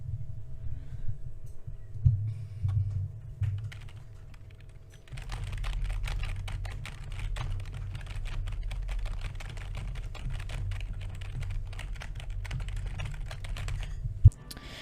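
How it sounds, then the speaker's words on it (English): Rapid, continuous clicking of keys on a computer keyboard, recorded through a Razer Seiren Mini microphone, close and steady, after a few seconds of quieter tapping. "this is going to be testing the keyboard"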